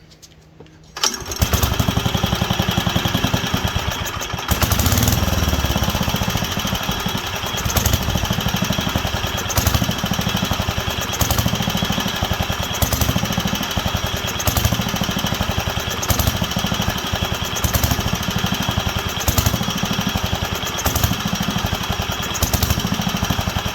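A Wisconsin AENL barn-find engine runs for the first time in over twenty years, firing in a loud, steady rapid chug with a rough knocking pulse as it leans out and recovers, close and continuous with no talk.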